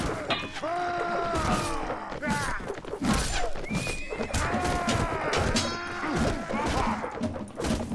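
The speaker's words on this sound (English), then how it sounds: "Horses." Horses whinny and neigh repeatedly in the Mount & Blade Warband medieval battle game, loud overlapping calls mixed with thuds and hoof clatter in a busy, crowded scene.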